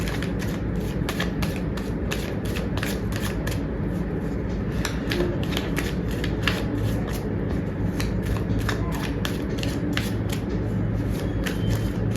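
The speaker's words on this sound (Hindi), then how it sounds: "जब तक मैं कार्ड शफल कर रही हूँ" Tarot cards are shuffled in rapid, crisp riffling bursts, repeated steadily and close up, with no speech over them.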